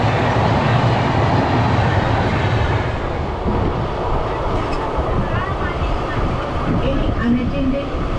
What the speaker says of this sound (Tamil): இப்போ இந்த எக்ஸ்பிரஸ் கிராஸ் பண்றது பாத்தீங்கன்னா லால்பாக் பிரஸ்